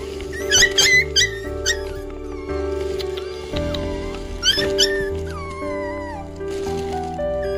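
Two abandoned puppies at a garbage dump, high thin whimpers and squeals in short bursts, close by, over a steady background hum.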